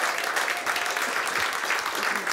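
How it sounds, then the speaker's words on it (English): Steady applause from a live studio audience at a comedy show fills the whole stretch, a dense even wash of many hands clapping close by. "Can you hear those claps?"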